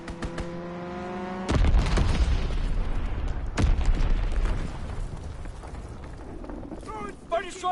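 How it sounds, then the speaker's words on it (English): Bombs explode in a Call of Duty WWII multiplayer match, a huge loud blast at about 1.5 seconds followed by rumbling debris and a second impact near 3.6 seconds, fading into a long roar under faint game voice callouts. "Enemy bomb incoming."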